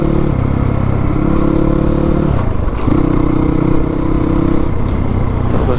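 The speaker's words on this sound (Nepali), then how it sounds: "गियर झऱ्यो इन्जिन ब्रेकिङ हु गरेर आफै त्यो स्टप भयो" A Crossfire RM250 motorcycle downshifting on a road near Sarangkot, Pokhara, the close engine note dropping in pitch as it engine-brakes, then settling into a steady mid-range drone.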